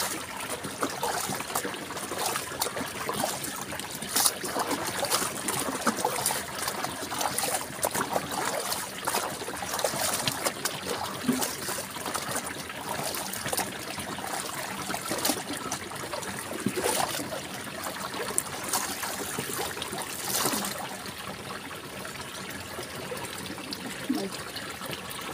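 Water trickles and splashes steadily in a cold spring stream in the countryside as clothes are washed by hand, with irregular sloshes and gushes over a continuous flowing backdrop.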